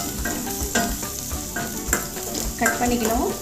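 Chopped onion hits hot oil with popped cumin in a pan for a potato gravy, giving a steady close sizzle with scraping stirs and brief spatula knocks, while a voice speaks briefly over it.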